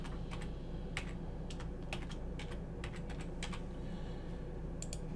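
Login details are typed on a computer keyboard, a quick run of light, crisp key clicks in irregular bursts over a low steady background hum, close by, with no talking.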